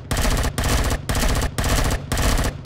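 Automatic weapon fire in the sci-fi survival game Empyrion Galactic Survival, loud dense bursts of rapid shots in about five long strings separated by brief pauses as a full magazine is emptied.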